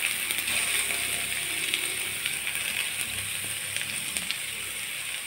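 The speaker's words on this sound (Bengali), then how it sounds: "তেলটা গরম হয়ে গেলে আমি তেলের মধ্যে কুচানো পেঁয়াজগুলো দিয়ে দেব।" Chopped onions frying in hot oil in a home kitchen, a soft, continuous hiss and crackle with light scattered pops, fairly quiet and steady, no voices over it.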